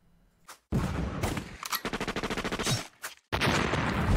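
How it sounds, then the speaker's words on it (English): Gunfire from the mobile shooter Guns of Boom in a 4v4 match: a rapid automatic burst of about a dozen even shots at close range, set between single loud blasts and dense bursts, with no talking. "Like the sound of big booming 4v4 friend fragging action?"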